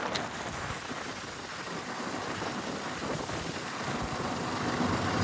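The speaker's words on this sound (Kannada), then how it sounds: "ಗಾಳಿನೂ ತುಂಬ ಬೀಸ್ತಾ ಇದೆ" Strong monsoon wind buffets the microphone during a rain ride on a highway, a steady, dense rushing roar throughout with no voices.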